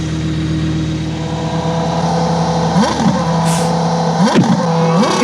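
A sports car of the kind seen in Monaco revs hard with paintballs loaded in its exhaust, a steady engine drone rising into sharp swooping rev bursts near the end.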